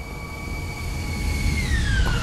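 A small rail wagon in a tunnel rolls closer in a video game, giving a steady metallic rumble with high wheel squeal that bends downward as it arrives.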